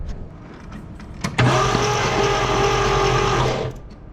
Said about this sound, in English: we got the motor to turn over.